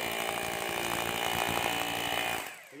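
A power drill running in hammer mode, a continuous loud buzzing rattle held steadily before winding down at the end, close to the microphone with no voices.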